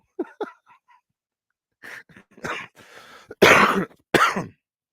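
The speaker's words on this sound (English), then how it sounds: "I have the remnants of that little cough and cold that I had." A person with a lingering cold makes some breathy throat sounds, then lets out two harsh, loud coughs close up.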